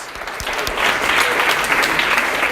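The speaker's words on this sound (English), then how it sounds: "A round of applause!" A live audience breaks into a round of applause at a memory talk, dense steady clapping filling the room, swelling slightly after the first moment and holding strong throughout.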